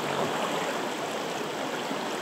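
Steady broadband rush of a flowing river beside a fishing bank during a late-season coho trip, loud, close and continuous with no voices.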